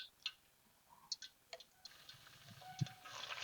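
Mustard seeds popping in hot sesame oil in a pan, a few faint, sparse crackling pops at irregular intervals against quiet kitchen background.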